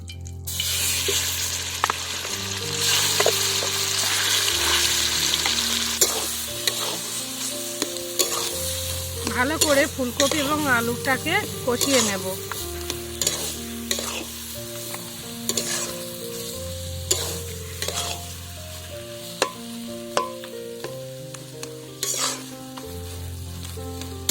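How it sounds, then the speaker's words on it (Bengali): Cauliflower and potatoes frying in hot oil in a wok give a loud, continuous sizzle, with stirring scrapes partway through and background music underneath. "তেলটা হয়ে গেছে এবারে আমি এর মধ্যে দিয়ে দেব ফুলকপি এবং আলু"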